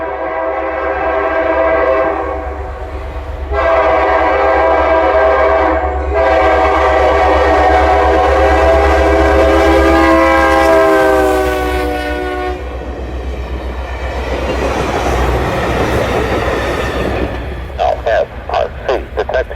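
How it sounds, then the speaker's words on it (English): LSRC locomotive 1776 hauling the five-car Santa train north past a defect detector near West Branch, its horn sounding long sustained blasts over a heavy diesel rumble, followed by passing wheel and rail noise and quick clattering as the train moves by. "With 1776 and the Santa train flying north by the defect detector"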